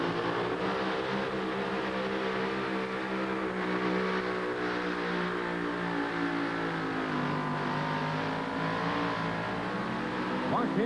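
A 1988 Chevy S10 race truck with an Aries engine at a drag racing event in Nashville, a loud sustained engine roar with rising revs and harmonic whine throughout, with a faint crowd or commentary bed underneath.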